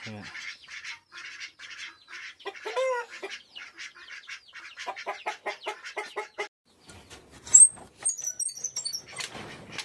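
Chickens and a rooster clucking and squawking in quick bursts, a busy flock of fowl calling close by with a shrill high cry partway through.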